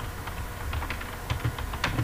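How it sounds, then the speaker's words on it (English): A password is typed on a computer keyboard, a quick run of soft, close key clicks and taps in an uneven rhythm over a couple of seconds. "Make sure you're careful when typing it."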